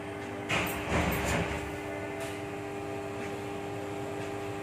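A pressure cooker sealed over a boiling pot of meat gives a loud, close burst of steam hissing that swells for about a second, then settles into a steady, quieter hiss with a faint tonal whine running underneath.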